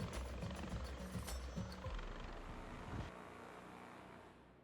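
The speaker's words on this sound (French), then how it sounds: "l'hélicoptère s'éloigne doucement" A rescue helicopter slowly flies away after a sea winching exercise with SNSM and Navy crews, its low rotor and engine drone loud at first, then dropping and fading steadily into the distance.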